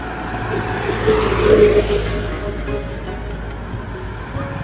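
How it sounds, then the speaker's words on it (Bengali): Cars pass along a main road at night. A soft, distant rush of traffic swells briefly and then fades over a steady background hum. "ওই যে দেখেন যে গাড়িগুলো আসে রাস্তা দিয়া"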